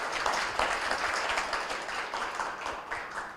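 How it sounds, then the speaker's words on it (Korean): An audience at a Korean venture and startup academic society autumn conference claps together in sustained, steady applause, dense and continuous with a slight fade toward the end, no voices over it. "서로 격려하는 박수를 한번 하십시오"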